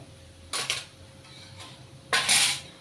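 Chicken masala being stirred in a pot with a utensil, a few soft scraping and clinking strokes in two short bursts over a low, steady background hum.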